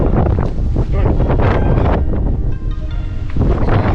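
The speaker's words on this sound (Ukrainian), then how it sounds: "Страшно через вітер." Strong wind buffets the microphone on homemade roof scaffolding in heavy, continuous gusts, loud and close, with a faint flutter of flapping material now and then.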